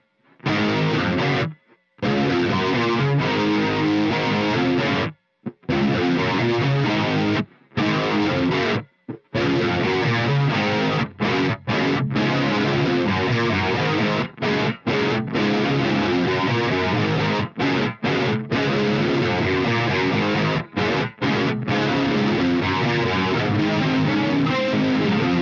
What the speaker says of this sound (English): Let's kick on some different overdrives and get some sounds.